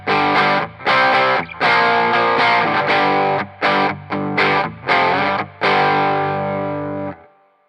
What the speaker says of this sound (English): here's the sound of the Headrush Blackop with a little bit of distortion